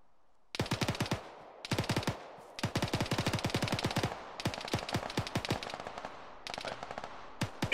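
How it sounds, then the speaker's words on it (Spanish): Rapid bursts of automatic gunfire in a tactical shooter video game, several separate volleys of sharp repeated shots with brief gaps between them, loud and close with no talk over them. "todo el tiempo escucho disparos allá cada vez que nos movemos"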